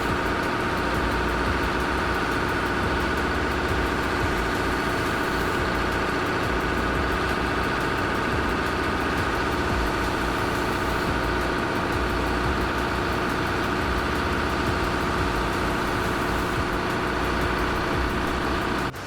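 A MAN TGX 41.540 heavy truck engine rumbles steadily, a loud, continuous low drone with no breaks, close and unaccompanied by talk.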